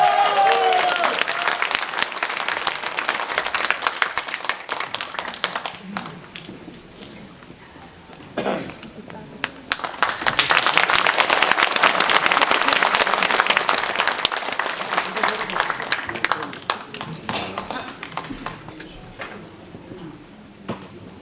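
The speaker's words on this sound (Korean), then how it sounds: "여러분 큰 박수로 맞이해 주시기 바랍니다" Large hall audience at Wonkwang University's 60th anniversary memorial hall clapping loudly for the next mayoral candidate, a dense sustained ovation that dips briefly midway then swells again for a long stretch.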